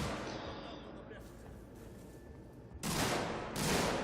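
Gunfire in the video game Alien: Isolation: after a quiet, low ambient hum, two sharp, loud bursts of shots crack out close by, a second apart near the end.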